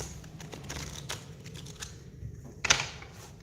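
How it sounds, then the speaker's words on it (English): A long, awkward tarot card deck being shuffled by hand, giving soft repeated riffling and rustling bursts with a sharper snap near the end, close and fairly quiet. "Let's shuffle."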